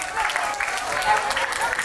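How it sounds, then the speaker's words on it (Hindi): An audience at a first-birthday celebration applauds the father, a steady patter of many hands clapping throughout. "ऐसा भाई पिताजी के लिए भी तालियां जोरदार"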